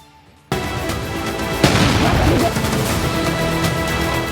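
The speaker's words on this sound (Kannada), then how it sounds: "ಢಮಾರಂತ ಬ್ಲಾಸ್ಟ್, ಬಾಂಬ್ ಬ್ಲಾಸ್ಟ್ನಂತೆ ಸತ್ತು, ನೋಡ್ತಿದ್ದಂತೆ ಚಿಮ್ಮಿದ ನೀರು" A sudden heavy blast, set off like a bomb in water, bursts in loud and close, followed by a sustained roaring wash of thrown-up, splashing water with one sharp crack partway through.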